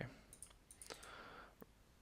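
Several sharp computer mouse clicks while working in the Unity editor, a quick pair early and a single click later, faint and close against quiet room tone.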